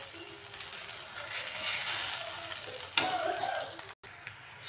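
Sago pearls being sautéed in a pan for sabudana khichdi give a soft, continuous sizzle, broken by a sharper stirring scrape midway and a brief dropout near the end.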